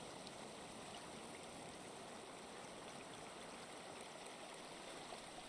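Steady, quiet flowing water in the block-building game Creativerse, a continuous trickling stream with no break and no voices.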